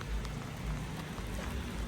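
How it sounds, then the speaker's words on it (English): Rain pouring down on an off-grid homestead, a constant dense patter with low rumbling texture underneath, steady and close throughout with no voices. "It's raining."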